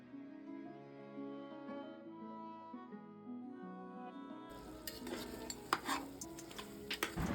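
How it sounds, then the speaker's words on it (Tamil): Sliced tomatoes are stirred into mutton biryani masala in a pan. Soft music plays first, then close sizzling begins with scraping and clinking from the spoon against the pan. "தக்காளி சேர்த்துட்டு இதோடு நல்லா சேர்ந்து மிக்ஸ் பண்ணிக்கோங்க."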